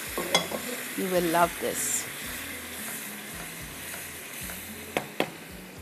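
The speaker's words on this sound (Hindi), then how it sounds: "नेपोलिटन सॉस पूरी डाल दीजिए" Napolitan sauce with crushed red chillies sizzles in a pan while it is stirred, making a steady frying hiss and scraping. A brief spoken phrase sits over the cooking.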